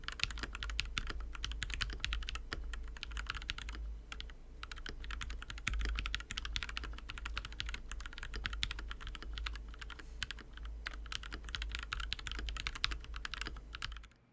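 Rapid typing on a custom gasket-mounted 75% keyboard with lubed and filmed Gateron Milky Yellow switches and Infinity Cafe keycaps: dense, steady clacking keystrokes, close and clear, with no voices.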